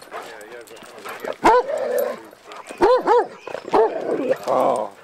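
A dog at home gives bursts of growling mixed with yips and whining, near and fairly loud, while people talk over and between the sounds.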